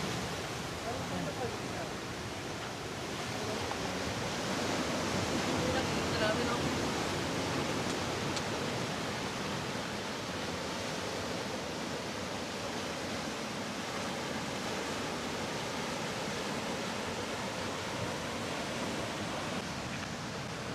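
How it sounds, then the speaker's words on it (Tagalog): Steady, loud roar of strong Pacific Ocean surf crashing on a shoreline, continuous broadband wash with no clear gaps, waves breaking close by. "Lakas ng mga alon, no?"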